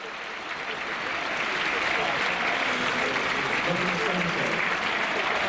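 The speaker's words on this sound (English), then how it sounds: "Good round of applause." Football crowd at a Burnley v Sunderland Championship match in December 2006 applauds in a steady, dense wash of clapping that swells in and holds, with a commentator's voice over it.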